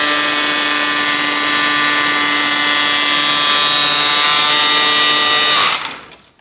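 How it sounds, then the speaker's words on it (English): A foundry pattern vibrator buzzes steadily and loudly to loosen a wooden pattern from a sand mold, a constant high-pitched hum that holds for about five seconds, then winds down and stops. "Once you get it loose from the mold, you can stop the vibrator."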